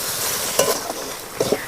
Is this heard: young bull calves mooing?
no